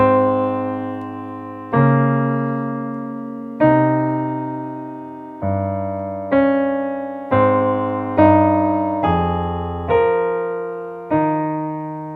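A piano plays a slow melody over a low bass line, each note struck clearly and left to ring and decay before the next.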